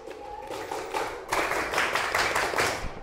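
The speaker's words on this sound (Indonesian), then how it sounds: "tepuk tangan untuk Mbak Keladi kelompok 2" A classroom audience claps for a student group after a presentation. The applause is a short burst of mixed hand claps that swells briefly near the end.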